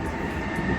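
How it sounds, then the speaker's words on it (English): Steady loud rumble of a train passing on a railway line right next to a home, a continuous close roar with no speech over it. "that's a train going by. I live right next door to a train"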